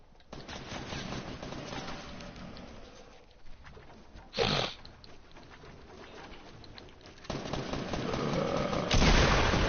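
Gunfire in the video game Fortnite, scattered shots and bursts crackling through a busy game soundscape, with one sharp loud report in the middle and heavier firing building toward the end.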